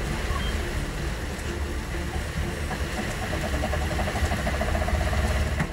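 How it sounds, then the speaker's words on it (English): A sailboat's engine runs in a steady low rumble, nearly masked by storm wind and rough water churning throughout the clip, with no clear start heard. "I gotta start the engine."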